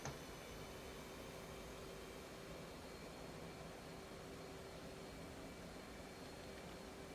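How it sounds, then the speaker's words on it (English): An F/A-18C jet's afterburner roaring in the DCS flight simulator, a steady, unbroken rushing noise held at an even level throughout, with a faint tonal whine beneath. "The way to burn the fuel is to use afterburner."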